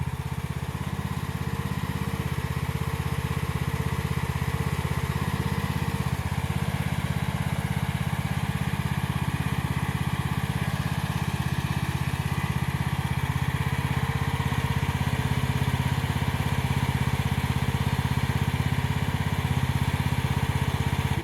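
A mini excavator's small diesel engine, an AGT MX15R, idles steadily at low revs, a continuous low rumble with a faint rattle, close by and unchanging throughout.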